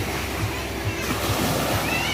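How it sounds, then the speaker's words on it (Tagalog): Steady rushing surf of strong ocean waves at a beach resort fills the background, a continuous wash with a voice speaking over it. "Medyo malakas pa ang alon"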